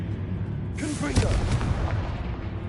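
Confringo fire spell in Hogwarts Legacy, a sudden whooshing burst that erupts after a quiet moment, followed by a rumbling explosion and crackling tail, loud and close.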